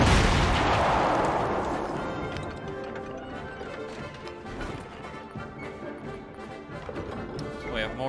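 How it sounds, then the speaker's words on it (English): Massed howitzer artillery bombardment in Civilization VII, a heavy rumbling barrage loudest at the start, then settling into a sustained roll of scattered impacts and crackling debris. "Mass artillery bombardment"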